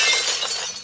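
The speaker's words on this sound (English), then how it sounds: "There was this quick and sudden loud bang on the glass, followed by a window in the kitchen completely shattering." Kitchen glass window shattering after a sudden bang, a bright burst of breaking glass with crisp tinkling fragments, loud and close, fading over under a second.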